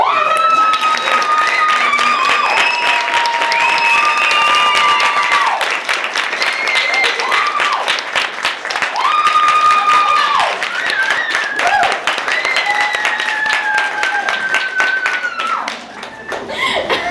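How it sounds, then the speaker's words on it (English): An audience at a musical workshop gives sustained applause, dense clapping rolling on loudly and evenly through a long stretch, with a few tonal voices or sounds mixed in. "please give a round of applause for Jenna, who will come up now."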